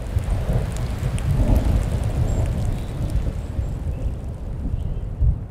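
Rain pours steadily over desert ground while thunder rumbles low and rolling underneath, a dense continuous storm with swelling peaks of thunder, no voices.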